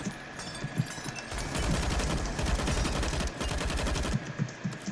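Gunfire in the CS:GO video game, including AWP sniper rifle shots, comes as bursts of rapid, loud shots with short gaps between them, set against a steady background hum.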